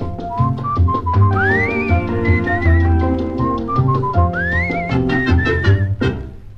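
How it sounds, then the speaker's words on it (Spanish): A person whistles a slow, wandering melody with rising slides in a song, over steady instrumental accompaniment, fairly loud and close. "En el recodo de aquel camino se oyó un silbido"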